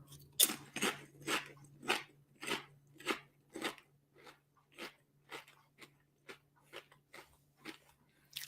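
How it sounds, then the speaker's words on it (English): Crunchy chips being eaten close to the microphone, giving about fifteen sharp, crisp crunches in a steady chewing rhythm that slowly grow fainter, over a low background hum. "They're very crunchy chips."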